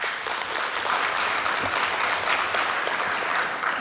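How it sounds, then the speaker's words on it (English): An audience claps in a loud, continuous burst of applause, steady and full from start to finish with no talking over it. "Can we give her a round of applause?"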